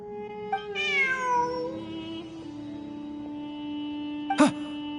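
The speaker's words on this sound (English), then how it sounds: "Look! A cat!" A cat meows in the Genshin Impact game world: a rising, drawn-out meow near the start, then a short bright chirp near the end, over a soft steady game ambience, with no talking.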